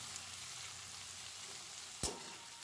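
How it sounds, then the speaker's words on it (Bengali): Rice fried with peas in a pan gives a steady, soft sizzle throughout, with one brief sharp clink of a utensil near the end and no voices. "চালগুলো দিয়েও কিন্তু আবার একটু নাড়াচাড়া করে ভেজে নিতে হবে"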